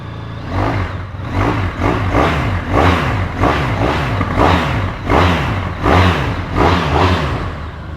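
A 2019 Honda VFR1200X Crosstourer DCT with a V4 engine fires up and is blipped repeatedly, loud close revs rising and falling in a steady rhythm of about a dozen throttle bursts over the idle.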